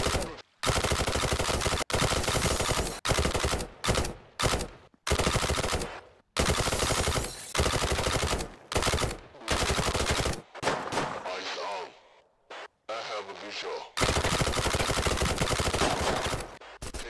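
Gunfire in the tactical shooter Thunder Tier One, with loud, close bursts and sustained automatic volleys broken by short silences, then a quieter, scattered stretch before heavy firing resumes.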